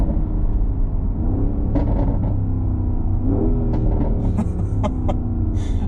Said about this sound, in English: this thing, when it downshifts, just crackles like crazy